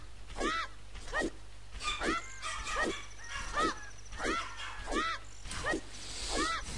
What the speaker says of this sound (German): das ist mein Hund